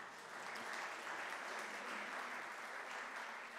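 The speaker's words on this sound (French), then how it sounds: "On peut les applaudir également." An audience at a regional rural-development awards day applauds steadily, a dense even wash of clapping from many hands that holds at constant strength throughout, with no voices over it.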